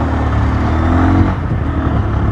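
A Bajaj Pulsar N125 motorcycle's engine drones steadily while riding at around 41-42, a loud, continuous hum mixed with rushing wind noise and no speech.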